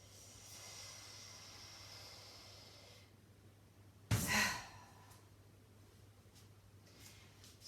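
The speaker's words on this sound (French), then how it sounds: "Grande respiration." A single deep exhale during a stretching session, close and breathy, following quiet room tone.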